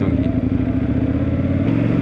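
An Indian Scout Bobber motorcycle engine runs smoothly with a steady, even low rumble and a constant mechanical hum close by, with no revving.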